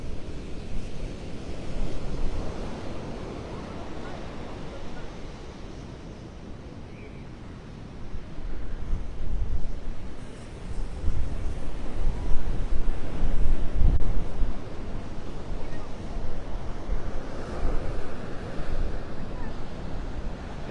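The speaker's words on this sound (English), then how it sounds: "That wind is blowing right now about 37 miles an hour" Strong hurricane wind at around 37 miles an hour roaring across Vanderbilt Beach in North Naples, Florida during Hurricane Helene, with surf crashing and heavy microphone buffeting, continuous and loud, easing briefly before surging again.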